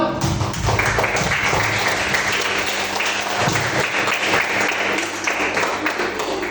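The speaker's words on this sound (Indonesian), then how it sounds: "Tepuk tangan untuk kelompok 1." Group applause in a classroom for the first student group after their presentation, dense continuous clapping held steady and loud from start to finish with a few voices mixed in.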